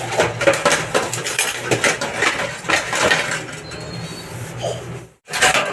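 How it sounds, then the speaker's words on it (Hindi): Dishes, steel utensils and pots clatter and clink continuously as they are scrubbed and washed by hand, busy irregular metallic knocks up close, briefly stopping near the end. "बर्तन साफ कर रही हूँ मैं अब।"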